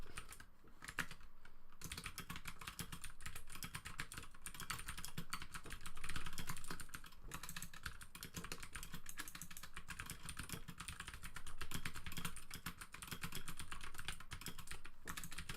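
Steady rapid typing on a computer keyboard during speed practice, a dense continuous clatter of key presses running throughout with no talking.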